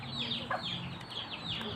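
Chickens cluck in a backyard, a run of quick, repeated clucks sounding close and steady over a constant low outdoor background.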